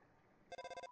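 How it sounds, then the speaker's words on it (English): A phone rings in the Undertale video game, a short burst of rapid electronic trilling pulses that starts abruptly after a quiet lead-in, faint and alone. "Phone! No one's been calling me for years!"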